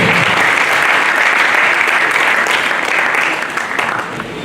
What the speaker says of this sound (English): Keep clapping for the chairman of the planning committee, Professor Welcome